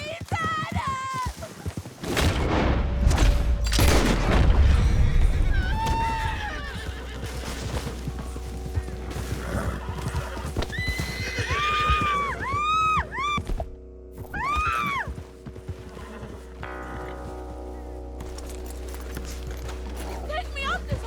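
A horse in Red Dead Redemption 2 whinnies several times in high, wavering calls, with hoof thuds and clopping nearby and a voice talking over parts of it.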